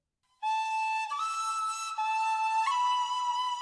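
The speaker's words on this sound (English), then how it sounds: "You can hear the whistle here." A clear, bright whistle in a Honkai Star Rail musical song plays a sustained melody of a few held notes, stepping between pitches, alone and steady.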